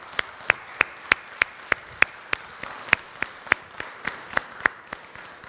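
A church congregation claps for a group of musicians at an Icelandic service, the sparse claps landing evenly spaced like a slow, steady rhythm close by.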